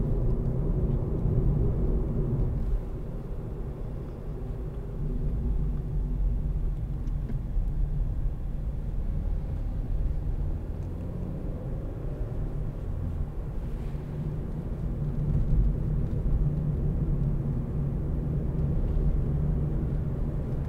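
Inside the cabin of a 2014 Vauxhall Corsa 1.4i ecoFLEX taking a corner sharply, a steady low road and engine rumble fills the car, dipping slightly in places, with no talking.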